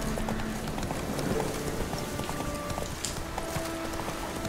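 Roach, the horse in The Witcher 3, gallops with a fast, continuous drumming of hooves, close and steady over a dense bed of ambient game sound.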